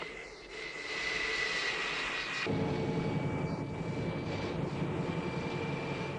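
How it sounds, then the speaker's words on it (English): Fixed-wing aircraft engine roaring steadily and loud at the start of an immediate rolling takeoff, the pitch shifting and the noise building to a sustained drone with no talk. "we're ready for immediate rolling takeoff"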